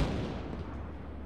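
Sustained rumbling gunfire and explosions from a helicopter gun run in the military video game Arma, a dense, continuous roar with no spoken voices.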